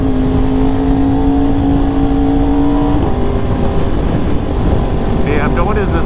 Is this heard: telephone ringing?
no